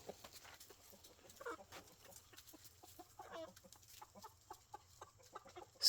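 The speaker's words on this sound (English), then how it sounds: "7 total chickens over there, counting Sue." Chickens cluck softly in scattered, irregular bursts, fairly faint over a low background hum.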